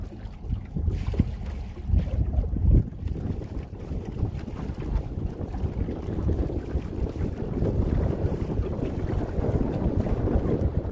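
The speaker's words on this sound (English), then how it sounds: "I know you guys can hear that wind." Wind gusts buffet a boat out on open water, roaring over the microphone in uneven loud bursts with low rumbling thumps and a constant rush of water underneath, no voices.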